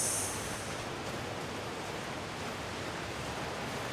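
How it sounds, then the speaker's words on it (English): A small waterfall in the Skyrim video game, heard as a steady, even rush of falling water with no other sounds, holding at constant volume. "just a little waterfall"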